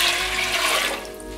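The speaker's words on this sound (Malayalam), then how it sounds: "അതിനുശേഷം അതിലേക്ക് 4 കപ്പ് വെള്ളം ഒഴിക്കുക." Water is poured into a pressure cooker holding washed cowpeas, a loud, steady, close rushing pour that eases slightly near the end.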